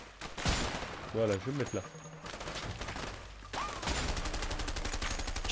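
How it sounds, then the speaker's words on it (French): Gunfire during an action sequence in the video game A Way Out, with bursts of shots crackling across the scene and a voice talking over them. "je me prends des coups de feu qui viennent un peu trop de je sais pas trop"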